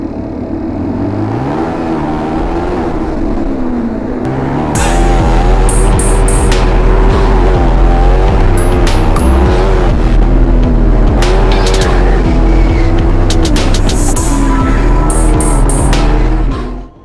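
Shifter kart engines buzz loud and high as the drivers weave to warm their tires on a drying track, the sound rising partway through and holding a dense, continuous revving drone.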